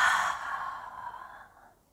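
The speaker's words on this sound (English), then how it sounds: "Exhale everything out." A long, full exhale during a calming breathwork and pranayama session: one breath pushed out steadily, loud at first and slowly fading over about two seconds, close and alone with no talk.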